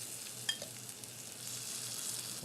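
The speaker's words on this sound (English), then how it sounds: "we'll just kind of stir this together until the cornstarch is kind of dissolved here" Sauce with cornstarch is stirred in a hot pan while cooking green beans, making a low, steady sizzle with one small clink near the start.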